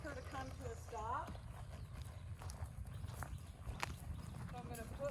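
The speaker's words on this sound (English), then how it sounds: "So let's walk our horse out a little bit here." A horse walking out at an easy pace, soft hoof clip-clops in a loose rhythm under a person talking, with faint ambient background throughout.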